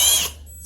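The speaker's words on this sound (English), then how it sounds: "I'll put my drill in and just go slow" A cordless power drill whines as it drives a screw slowly into a pocket hole in wood, a short loud burst that drops off and then starts up again.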